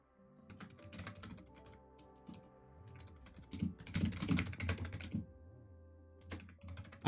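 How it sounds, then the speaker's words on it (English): Close, crisp keystrokes on a computer keyboard come in irregular bursts of rapid taps separated by short pauses, with no one talking. "I'm just typing this here."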